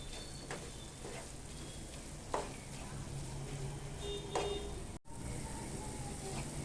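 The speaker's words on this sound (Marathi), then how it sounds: "थोडंसं सुकेपर्यंत ना सतत परतत राहायचं आहे" Jaggery and coconut filling with cardamom powder is stir-fried in a pan, giving a soft, steady sizzle with repeated scraping strokes of a spatula at a close, quiet level, plus one brief dropout in the sound.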